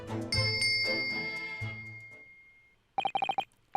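A bell cord beside a bed in a ship's cabin in The Great Ace Attorney Chronicles is tugged, setting off a quick run of bright, rapid bell rings after a fading musical tone.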